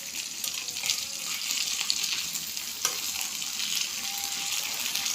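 Chili peppers and beans frying in a pan, a steady close hiss and crackle with occasional stirring scrapes and faint clinks, no voices.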